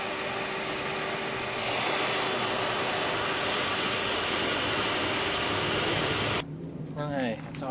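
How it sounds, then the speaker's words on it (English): A damp vacuum cleaner salvaged from an abandoned house runs with a loud, steady, hissing roar for several seconds, then cuts off abruptly, leaving faint rattling and a voice speaking. "Should have kept this vacuum actually better than I thought."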